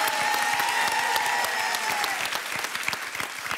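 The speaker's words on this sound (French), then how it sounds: "applaudissements pour Yves et Christine" A television studio audience on a dating game show applauds a couple, a bright, crisp crowd of clapping hands with distinct sharp claps breaking through as it starts to taper, and a faint tone lingering under the first half.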